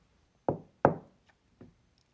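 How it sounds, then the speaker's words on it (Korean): A hand knocking on a cottage door, two sharp close raps followed by a fainter third knock after a pause. "3일이 지난 어느 날 누가 문을 두드리는 것이었어요."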